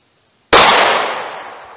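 A single 9mm pistol shot fired with Winchester white box 115 grain ammunition, loud and sharp at close range, its crack trailing into a decaying echo over a second or more.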